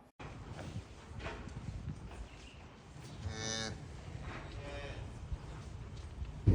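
A second-time mother cow tends her newborn calf in cold weather, giving low moos that build to a louder, drawn-out call midway, with shuffling and movement sounds around her and no talk.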